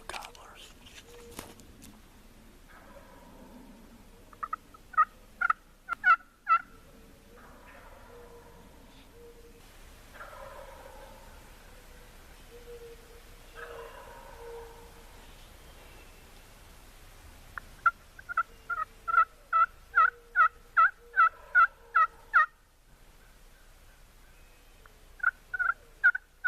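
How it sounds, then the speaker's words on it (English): Wild turkey gobblers on a roost on a knob gobble in the distance, repeated bursts of rapid rattling calls, with quiet whispered talk nearby between them. "These turkeys are over here on this knob, and they are hammering."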